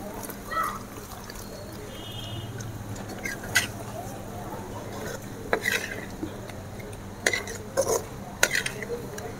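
Egg kuzhi paniyaram is stirred into masala gravy in a pan, giving intermittent scrapes and light metallic clinks of a spoon over a low, steady background hum.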